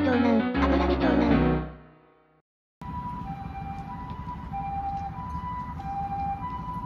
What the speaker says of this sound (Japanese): 救急車が。